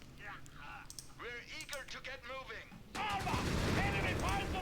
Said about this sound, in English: You can see that first shot from the Matilda bounced off the Panzer IV's front armor.